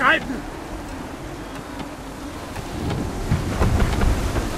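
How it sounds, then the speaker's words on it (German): Stormy wind and rough sea around a sailing ship near cliffs in Assassin's Creed 3, a continuous broad roar of gusting air and surging water that swells slightly toward the end, with a brief sharp burst at the start. "Der Wind drückt uns gegen diese Klippen."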